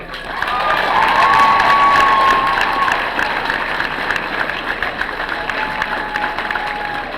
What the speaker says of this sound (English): If you can join me in giving a special round of applause to our special guest, Mrs. Paula Bradach